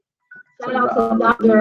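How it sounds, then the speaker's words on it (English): A mobile phone rings with a bright electronic ringtone during an indoor round-table conversation, starting with a short tone and then sounding loudly and continuously under overlapping talk. "Sorry, that's my phone."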